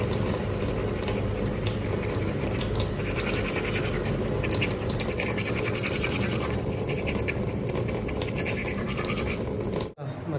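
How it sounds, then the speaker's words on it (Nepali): Someone brushes their teeth with a toothbrush. Close, continuous scrubbing and scratching runs for about ten seconds, then stops abruptly. "ब्रस गर्दै थिएँ"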